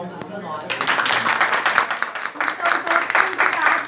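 Applause at a school violence debate seminar in a public prosecutor's office: loud, dense clapping starts under a moment of talk and continues throughout, close and sustained.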